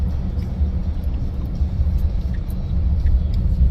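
Fastest production car accelerating, a heavy low rumble of engine and road noise building slightly in loudness, heard from inside without talking.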